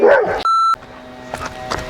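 A reactive dog being trained in a circle drill gives a few sharp barks, then a pause, then a second cluster of barks, close and fairly loud, with no one talking over them.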